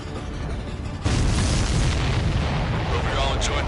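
Explosions in the combat flight game Ace Combat 7 erupt with a sudden loud boom, followed by sustained rumbling blasts over the steady engine drone.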